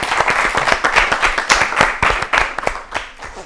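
Audience clapping on an Ethiopian children's television quiz show, a lively burst of many hands with dense, uneven claps that stays loud and steady, then tapers slightly toward the end.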